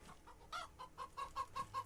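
Chickens clucking in the video game Farming Simulator 25, a quick run of close, rhythmic clucks alone in under two seconds.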